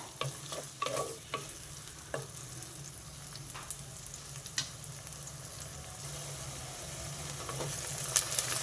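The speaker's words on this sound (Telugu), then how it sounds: "ఈ ఉల్లిపాయలు కొంచెం వేగాలండి దీంట్లో" Onions frying in a pan for cauliflower and green peas curry, a steady low sizzle with a few sharp spoon clinks and stirring scrapes early on, close and moderately loud without speech.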